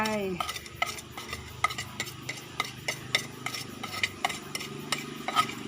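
Roasted rice, chili and lemongrass being stirred into a red ant egg salad in a bowl, with a steady run of soft scraping and light clinking from the spoon, close and fairly quiet, with no talking.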